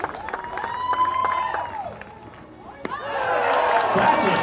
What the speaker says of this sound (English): Let's have another round of applause for BYU head basketball coach Dave Rose.